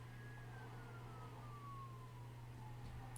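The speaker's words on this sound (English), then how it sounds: "Ignore the siren in the background" A distant emergency siren wails faintly in the background, one long tone sliding slowly downward over a constant low electrical hum, with no one speaking.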